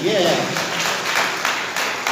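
A church congregation applauds for Jesus Christ during a Sunday service, a dense, steady wash of clapping that lasts throughout. A voice talks loudly over the start.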